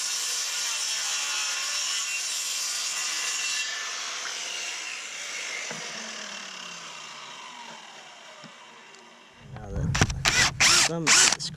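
A power drill backs a screw out of wood, a short burst of whirring and ratcheting near the end after a long stretch of quieter workshop rubbing and handling, close and fairly loud.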